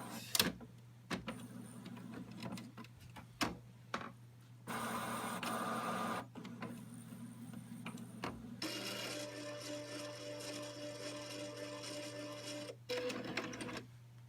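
Dell printer running a print job, with quiet mechanical whirs, clicks and several separate bursts of motorized feeding and printing noise in a quiet room.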